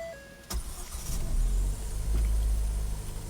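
A car engine in a repair shop cranks with a sharp click, catches and settles into a loud steady idle with a deep low rumble and a brief rise in revs, and no one speaks.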